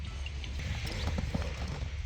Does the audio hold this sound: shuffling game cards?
no